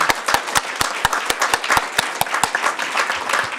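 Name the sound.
audience applauding award winners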